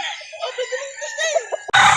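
Roosters at a poultry market in Calauan, Laguna give a stretched, wavering crow with shorter calls around it, followed by a sudden loud, harsh burst near the end.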